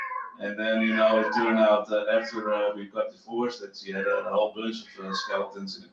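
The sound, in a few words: pet cat meowing in the background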